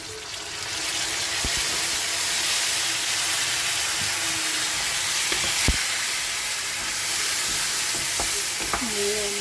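Onion, tomato and chili paste sizzling as it goes into a pan of frying potatoes, a steady hiss with a few sharp clicks and scraping stirs, no voices.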